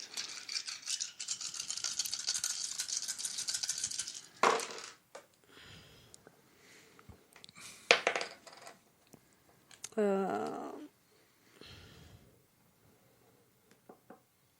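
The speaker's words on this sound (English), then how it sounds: "Okay, so then roll all those dice." Several dice are shaken and rolled across a table during a Firefly tabletop roleplaying game, giving a sustained close rattle followed by scattered clatters and a few rolling tumbles, then quiet.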